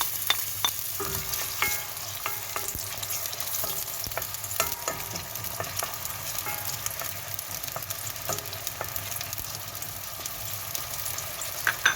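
Two onions fry in hot oil with a steady, close sizzle and crackle throughout, broken by occasional scraping stirs.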